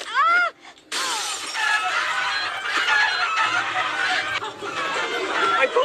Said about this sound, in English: My poultry! My precious poultry!